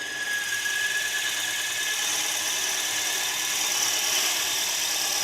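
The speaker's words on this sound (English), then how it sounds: "Because I'm drilling straight into end grain." A power drill bores straight into the end grain of wood with a steady whining hum and a faint squealing overtone, continuous and fairly close throughout.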